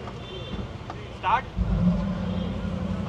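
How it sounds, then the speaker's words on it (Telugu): A 2025 Mercedes G63 AMG G-Wagon engine starts up, a brief whir followed by a deep rumbling burst that settles into a steady idle. Faint talk is heard before it. "I will start the car."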